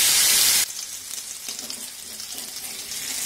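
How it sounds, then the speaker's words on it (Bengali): Potatoes dropped into hot mustard oil in a pan: a loud initial burst of sizzle, then a steady, fainter frying hiss that holds close and continuous, with no talking. "তেল গরম হয়ে গেছে এবারে আলুগুলো এখানে দিয়ে দেব"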